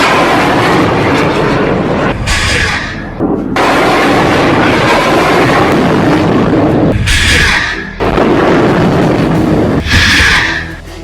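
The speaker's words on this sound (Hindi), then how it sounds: "एक के बाद एक हमास 10 रॉकेट फायर करता है।" Rockets fired by Hamas launch one after another, each a loud roaring whoosh that bursts out and fades, repeating about three times over a constant rumbling background.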